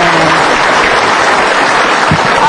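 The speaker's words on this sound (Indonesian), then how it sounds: "Berikan tepuk tangan untuk dia" An audience at a motivational seminar gives a loud, sustained round of applause, even and continuous throughout.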